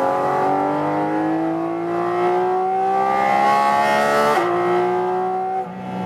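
Porsche 718 Cayman GT4 RS at speed on the Estoril racetrack, a loud, sustained engine note climbing steadily through the revs, then briefly dipping on a shift and pulling on again, close and alone without talk.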